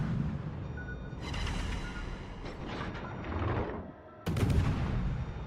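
Battleship naval guns fire high-explosive shells in World of Warships, heavy booming salvos with rumbling low-end blasts and mechanical clatter arriving in bursts, one sharp loud report near the end.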